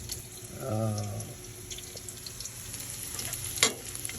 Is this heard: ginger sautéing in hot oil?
yes